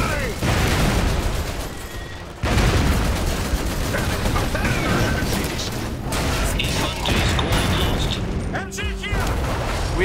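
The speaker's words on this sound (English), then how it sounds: "Incoming artillery!" Artillery barrages and gunfire rumble through an Iron Harvest battle, a dense, continuous wall of booms and shots with mechanical clatter, loud and sustained, with a sharp rise in intensity partway through and brief voices mixed in.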